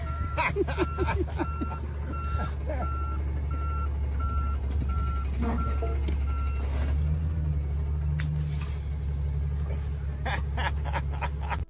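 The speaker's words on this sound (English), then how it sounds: "Let him back up the truck." A truck backing up, its reversing alarm sounding a steady series of evenly spaced beeps over a loud low engine rumble, with scattered other noises and a few faint voices.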